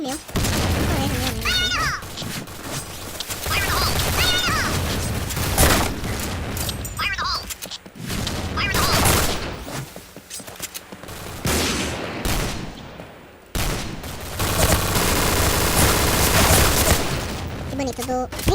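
Rapid bursts of video game gunfire crackle through the whole stretch, with booming shots and a person talking over the action.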